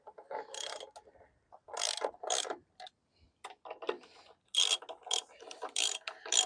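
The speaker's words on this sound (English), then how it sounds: "I'm just going to get these bearing bolts nipped up" A ratchet wrench tightens the bearing bolts on a ZT1844 cutterhead, giving several close, crisp bursts of rapid ratcheting clicks separated by short pauses, with no talking.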